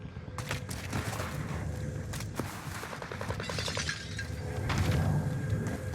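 Glass shatters inside a Call of Duty Warzone match on Rebirth Island, with a brief crash and tinkling debris over dense game noise and distant gunfire, no speech.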